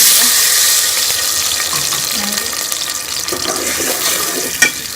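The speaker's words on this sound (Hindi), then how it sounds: "और ये पानी डाल देंगे।" Water pours and splashes into a hot pan of ghee and sugar while making sweet vermicelli, a steady rushing hiss with some sizzling, close by and loud.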